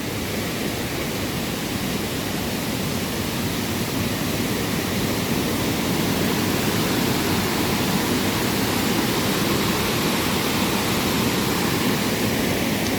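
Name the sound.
waterfall in Chiang Mai, Thailand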